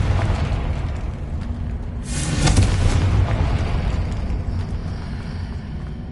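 A Confringo fire spell in the Hogwarts Legacy video game goes off as a deep booming explosion partway through, bursting over a steady low rumble of ambient game sound that lingers afterward.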